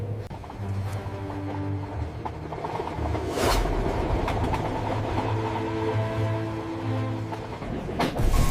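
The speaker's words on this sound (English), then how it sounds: "the train screamed through the tunnel" A train rushing through a tunnel, a sustained low rumble with steady mechanical hum and a rising surge partway through, loud and continuous with no voices.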